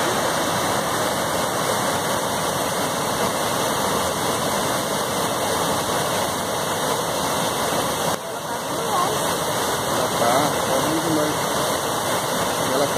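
A waterfall where people come to bathe roars steadily with a dense, unbroken rush of falling water, loud and close, with a faint high electronic whine running throughout.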